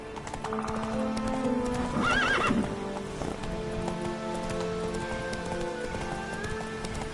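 Roach the horse in The Witcher video game clip-clops at a gallop with rapid hoofbeats under background music, and a clear whinnying neigh breaks out in the middle.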